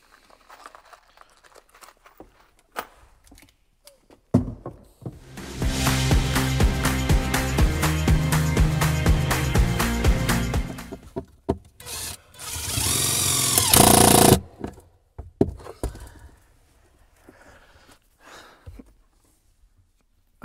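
A power driver runs four screws to mount a reversible ballast pump during a 2005 Supra boat build, heard as a long loud whirring burst, a second shorter burst, then faint handling clicks in a quiet space.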